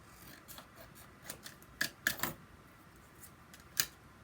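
Paper being cut for scrapbooking, with a handful of short, sharp snips spaced apart against a quiet room, loudest in a quick cluster near the middle and one last crisp cut near the end.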